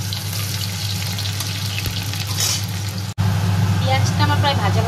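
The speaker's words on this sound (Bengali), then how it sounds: "পেঁয়াজ ভেজে নিচ্ছি" Onions frying in oil for a dal tempering give a steady, close sizzling hiss over the low drone of a running kitchen chimney, with a brief knock partway through.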